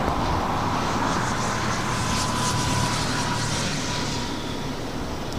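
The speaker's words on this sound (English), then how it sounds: "Flight taken off was United Airlines flight 1658 heading to Chicago O'Hare, 737 MAX 8" A United Airlines Boeing 737 MAX 8 taking off at LAX, bound for Chicago O'Hare, gives a broad, steady jet roar with a faint whine, heard at a distance and slowly easing toward the end.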